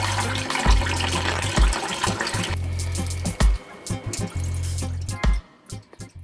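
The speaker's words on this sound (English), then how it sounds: "In my bowl, I have 2 cups of basmati rice, and I'm going to wash it at least 4 times to remove the starch." Two cups of basmati rice being washed in a bowl of water, with splashing and swishing of the water and grains alongside a low hum, then quieter drips and small sloshes toward the end.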